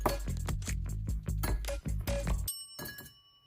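Ginger ale frozen into ice cubes clinks against a glass in a run of bright, close taps and knocks, with a low rumble underneath and a fading ring at the end.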